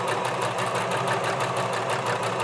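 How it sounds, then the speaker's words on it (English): Sewing machine stitching fabric close by, a steady fast mechanical whir with an even rapid ticking pulse that runs unbroken from start to finish. "I'm sewing very close to the sewing line that I just sewed"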